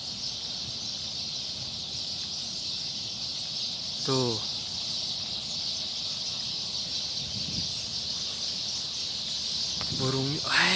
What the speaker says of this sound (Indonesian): Udah kedengaran ya suaranya, suara burung.